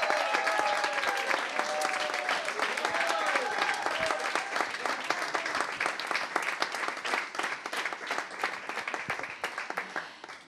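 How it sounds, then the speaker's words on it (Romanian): An audience applauds a dance group after a choreographed performance at a festive stage show, steady dense clapping sustained throughout, fairly close and loud, with a voice briefly heard over it early on. "Aplauze încă o dată pentru Unodance!"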